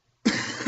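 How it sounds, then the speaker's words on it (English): A single sharp cough, close and fairly loud, bursting out abruptly after near silence and ending with a short rough tail. "excuse me, I have a bit of a cough."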